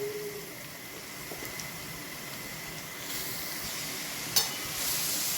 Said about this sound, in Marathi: तूप गरम झालं की त्यामध्ये जे आपण गाजर खिसलेलं आहे ते टाकायचं आहे